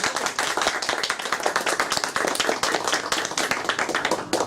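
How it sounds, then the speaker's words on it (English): Applause and clapping from a live audience at a book launch for a debut novel, steady dense claps filling the room at close range for the full stretch with no talk. "Would you please give her a huge round of applause?"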